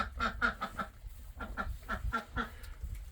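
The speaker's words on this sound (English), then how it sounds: "this duck's awful loud" A duck in a farm barn quacks loudly and close by in two rapid, rhythmic bursts of repeated nasal calls.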